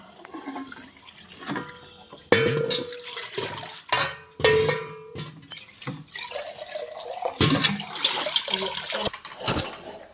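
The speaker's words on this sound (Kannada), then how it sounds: "ಸಾಬುದಾನಿಗೆ 3 ಚರ್ಗಿ ನೀರು ಹಾಕ್ತೀನಿ" Water is poured into a pot for boiling sago in several separate splashing bursts, with clinks and handling noises in between.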